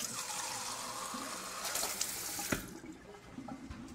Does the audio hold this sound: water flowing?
yes